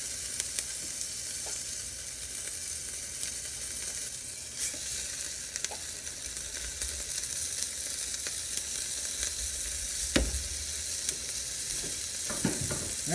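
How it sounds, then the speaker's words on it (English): Sesame-crusted tuna sears in a hot pan, a steady close sizzle running throughout with occasional small pops and crackles, no voices. "Basically just searing the outside of that tuna."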